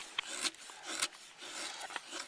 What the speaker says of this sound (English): just the great edge they put on this knife, I can get real fine shavings done